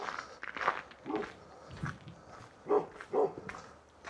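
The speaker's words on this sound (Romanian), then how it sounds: "E un câine mai rău." A fierce dog barks a few times at a distance in a frozen village lane, faint and scattered amid footsteps on the icy road, with no talking.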